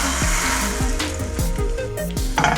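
A pancake sizzles loudly in a hot pan at too high a temperature, a steady crackling hiss with a repeating mechanical whir underneath.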